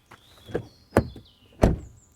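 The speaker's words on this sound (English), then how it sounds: "our favorite and famous door closing sound test" A Volkswagen Tiguan SUV's door shuts with a solid, muffled thunk, close by, among a few other quieter door and latch knocks in a short sequence.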